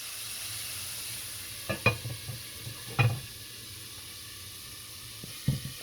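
Southern fried chicken frying in a pot, a steady broad sizzle with a few sharper pops and spatters scattered through, fairly quiet and without voices.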